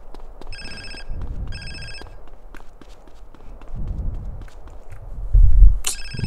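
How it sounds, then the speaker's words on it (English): A telephone rings in repeated electronic bursts inside the GTA San Andreas video game, loud and close, with footsteps and low background rumble between the rings. "This damn phone keep ringing"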